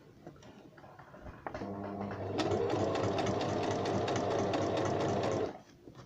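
A Brother BM 3700 domestic sewing machine runs a parallel stitch with the needle shifted left, a few slow clicks first, then a steady, close, continuous whir for several seconds that stops abruptly.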